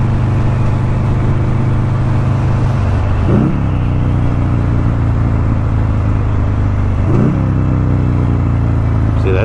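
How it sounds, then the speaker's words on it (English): A Buell motorcycle engine drones loud and close at steady revs, broken by two sharp rev-matched blips on downshifts, each a quick rising and falling surge of engine note. "I love those rev matches"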